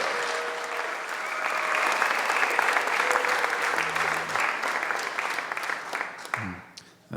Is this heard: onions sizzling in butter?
no